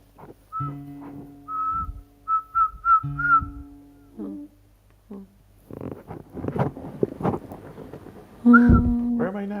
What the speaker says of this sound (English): I'm trying to whistle with not much success.